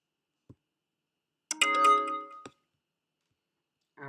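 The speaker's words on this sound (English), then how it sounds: "receive the notification" A Bitrix24 CRM notification sound, a short bright chime with a few tonal notes that rings out and fades, set between isolated soft clicks in an otherwise quiet room.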